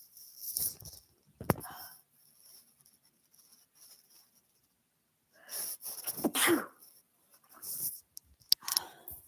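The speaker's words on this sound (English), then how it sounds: "I have to sneeze." One person sneezes indoors, a sharp, close burst followed by breathy rustles and small clicks, with quiet gaps between the sounds.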